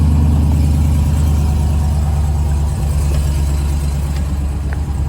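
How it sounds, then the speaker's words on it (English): Supercharged Ram TRX V8 engine idling steadily with a deep, even low rumble and faint supercharger whine, close by and continuous without talk. "after this idles down a little bit, I'm gonna go ahead and let you guys get a listen of the supercharger"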